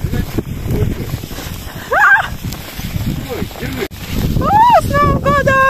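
Gusting snowstorm wind buffets the microphone outdoors on a Christmas night in Volzhsky, where people are lighting sparklers; it makes a steady low roar with rises and dips, and voices call out over it.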